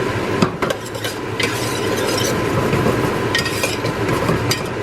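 Onions and garlic stirred in a pot on a hot gas stove for Japanese pork curry stew, with steady scraping and light clinks of a utensil against the pot over a soft sizzle, close and continuous.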